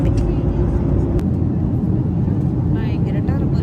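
Steady, loud roar of jet engines and rushing air inside an airliner cabin climbing after takeoff from Malta, a continuous broadband drone with no breaks.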